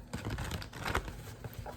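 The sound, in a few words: shuffling a tarot card deck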